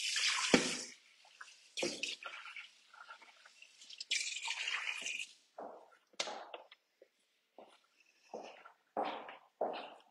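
Tap water runs in short, irregular bursts as a Thermomix bowl is rinsed between chopping vegetables for a Greek chicken salad, with splashes and drips stopping and starting close by.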